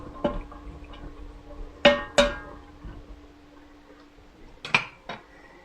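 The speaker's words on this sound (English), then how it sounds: "Let's go ahead and give it a stir" Spoon stirring spices into a chicken and sausage jambalaya mixture inside an Instant Pot, giving a few sharp metallic clinks and scrapes against the inner pot, spaced irregularly over quiet background.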